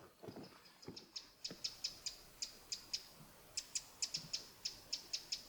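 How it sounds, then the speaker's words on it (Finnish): Young great spotted woodpecker in a Finnish forest giving a rapid series of sharp, high, repeated call notes, about a dozen evenly spaced chirps, fairly close and clear over quiet woodland background with a few low rustles. "Lieniköhän nuori käpytikka, niin mä olettaisin."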